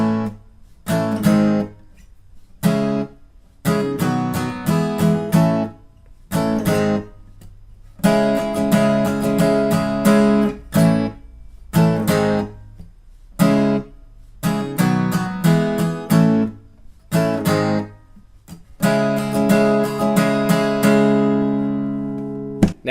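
Acoustic guitar plays the chorus of a song, rhythmic choppy strummed chords with frequent short muted gaps, close and steady, ending on a ringing chord with no talking.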